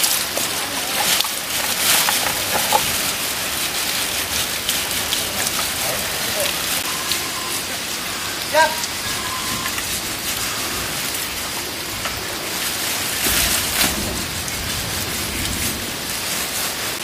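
Rain falls steadily as a constant hiss of drops on surfaces, with a few louder bursts and faint voices now and then in the background.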